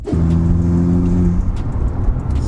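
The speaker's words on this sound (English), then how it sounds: "Sounds so good. Downshifts there, DSG gearboxes are wonderful as well." A VW Golf R Mk6 with a DSG gearbox drops a gear, giving a brief rising blip before the engine falls back to a close, steady low rumble while driving.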